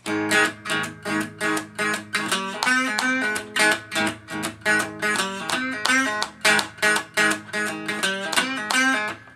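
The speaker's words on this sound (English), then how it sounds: "The final riff, up to speed, is going to sound something like this." A crunchy electric guitar plays a riff fast and loud, with rapid, evenly spaced chord stabs repeating in a driving rhythm and no voices.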